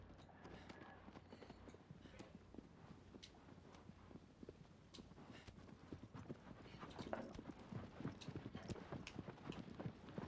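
Horse hooves clip-clopping in the video game Shadow of the Colossus, a steady stream of quiet hoofbeats that grows slightly louder and busier toward the end, with faint ambient sound underneath.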